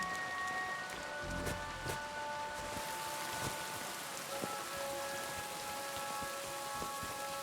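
Steady rain falling at night in the video game Kingdom Come Deliverance 2, a dense continuous patter on surfaces with a few louder drops, no voices.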